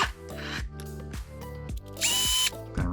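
Power driver snugging a transmission screw with short whirring bursts that start and stop in a rapid sequence, close and fairly loud, with a higher-pitched burst near the end.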